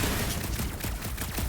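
Dense, rapid gunfire from a Guardians of the Galaxy video game battle against a big bug, a loud continuous barrage of overlapping shots with no clear pauses.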